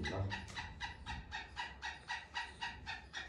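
Caged partridges (teetar) in a village give a run of repeated rhythmic calls, about a dozen evenly spaced bursts, close and fairly loud with no talking over them.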